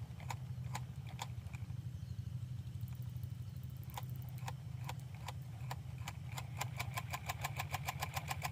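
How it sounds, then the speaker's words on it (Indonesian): A small hand tractor engine used to pump river water to rice fields chugs into life and settles into a steady low idle, with regular sharp ticks and knocks riding over the rumble, close and alone. "sekarang kita hidupkan mesinnya bosku"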